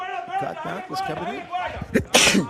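Near the end, one sharp, loud sneeze bursts out, right after commentators talking over a live combat sports broadcast.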